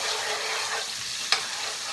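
Salt frying in hot oil in a cooking pot, a steady broad hiss of sizzling with one brief sharp crackle near the end, with no voices.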